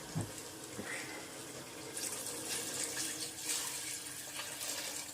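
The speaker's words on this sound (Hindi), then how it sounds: "अब इसमें मैं पानी डालूंगी।" Water runs steadily with a bright rushing splash, growing fuller and louder partway through as it pours into a cooking pot.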